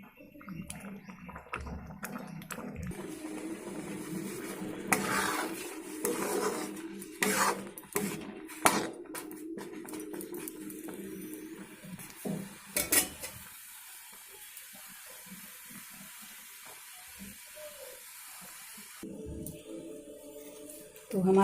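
A spoon stirs halwa in a pan on the stove, giving a close, steady scraping and rubbing over a faint sizzle, with a few sharper clanks against the metal before things go quieter near the end.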